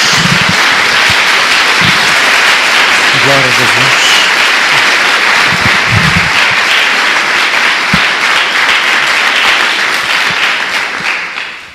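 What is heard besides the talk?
congregation applause in church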